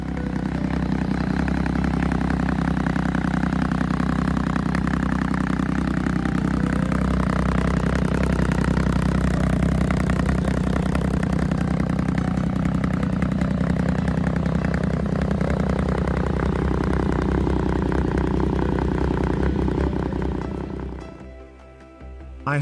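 Yamaha XSR 900 cafe racer motorcycle engine idling with custom exhausts: a loud, steady, close rumbling drone with a rapid even pulse, holding for about twenty seconds before cutting off abruptly near the end, no voices.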